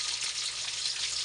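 Steady, loud sizzling and crackling of tuna frying in hot oil, a continuous hiss up close with no talking.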